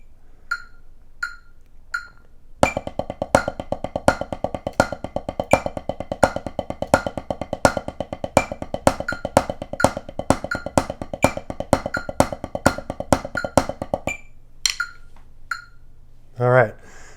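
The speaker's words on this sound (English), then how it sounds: "We're going to do groups of 6 and then change to groups of 4." Drum kit playing a Neil Peart style fill in fast groups of six that change to groups of four, a dense run of even strokes with accented hits, close and loud, set between sparse single strikes.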